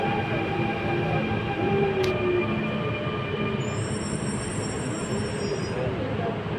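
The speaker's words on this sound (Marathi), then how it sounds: "तर बघा मेट्रो दुबईची बघा कशी असते आणि सगळं भूमिगत आहे" A Dubai underground metro train running, with a steady rumble and rolling rail noise throughout and a brief high squeal partway through, heard from on board with faint voices in the background.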